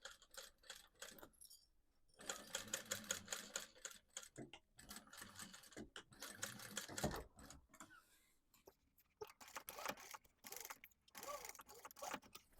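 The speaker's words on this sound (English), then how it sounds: "You definitely want to remember to back stitch on these." Sewing machine back stitching the seams of a denim tote bag made from old jeans, heard as bursts of rapid mechanical stitching with short pauses between runs, close and moderately loud.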